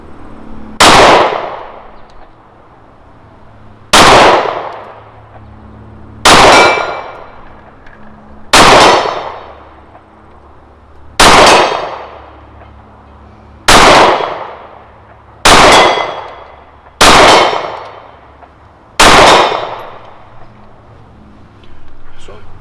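A Stoeger STR-9 pistol fires single shots at targets 50 yards out on an outdoor range, nine sharp loud cracks spaced a few seconds apart, each with a short ringing decay and quiet gaps between.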